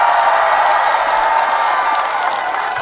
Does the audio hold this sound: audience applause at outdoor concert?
yes